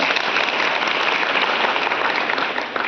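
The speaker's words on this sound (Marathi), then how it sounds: "एकदा तिच्यासाठी जोरदार टाळ्या वाजवा." Students in a classroom break into loud, continuous applause, a dense wash of clapping that carries on for a few seconds.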